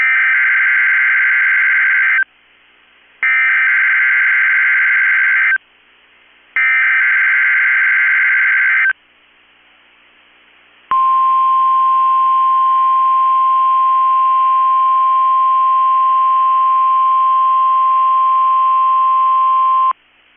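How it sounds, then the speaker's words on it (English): NOAA Weather Radio alert: three harsh bursts of digital data tones separated by short pauses, then silence, then a loud, steady single-pitch warning alarm tone held for about nine seconds. "has activated the warning alarm on 13 radio stations across central and southern Minnesota and west central Wisconsin"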